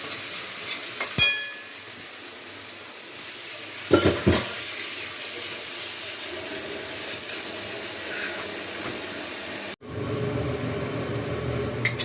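Chopped onion sautéing in a hot pan for a simple Marathi-style sandgi vegetable curry, with a steady close sizzle, a few spoon stirs and clinks around the middle, then a brief break before the frying resumes.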